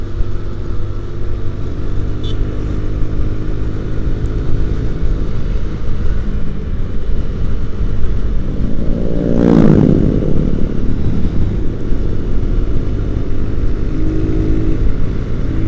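Automatic scooters, Honda Beat and Yamaha Mio, ride along a straight road near a dam, engines droning loud and steady with wind rush, one passing vehicle swelling briefly midway.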